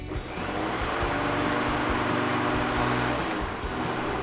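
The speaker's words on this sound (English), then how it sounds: "So simply push the button in, pull the lever back, and it will start." A Cobra GTRM34 electric lawn mower, 34 cm and 1200 W, runs its motor in a loud, steady, continuous whine with an airy rush and a high tone. It stays close and constant for a few seconds, with no voices.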